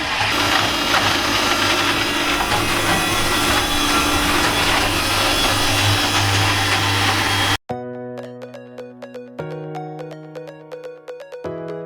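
Blown wool insulation machine for loft insulation roaring loud and dense with a grinding mechanical hum, then cutting off abruptly and followed by a quieter, rhythmic mechanical whir and ticking with shifting tones.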